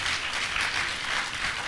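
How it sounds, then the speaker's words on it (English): Audience applause at a graduation ceremony and annual lecture, a steady even clapping from a large crowd that continues without a break. "Please, a round of applause to the management team"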